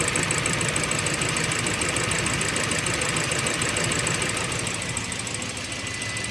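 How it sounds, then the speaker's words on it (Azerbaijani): A Great Wall Florid M4 engine runs irregularly at idle, a dense, continuous mechanical drone with uneven knocking pulses, close and steady at moderate loudness with no talking. "Mühərrik qeyri-müntəzəm işdir."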